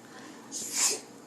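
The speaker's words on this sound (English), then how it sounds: "You're sneezing a lot." A single short sneeze from a person, a quick breathy burst with a brief inhale leading into a sharp hissing release, fairly soft and alone with no talk.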